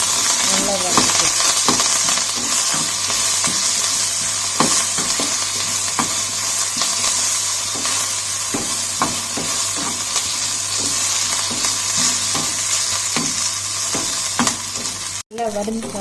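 Chicken curry masala and curry leaves dry-roast in a pan with a constant sizzle, overlaid by repeated scraping stirs of a spoon against the pan, ending with a brief clatter.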